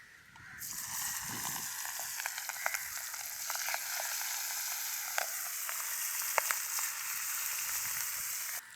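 Fish fried in hot oil for a riverside village fish meal, a loud, dense, continuous sizzle close by with scattered pops and crackles throughout.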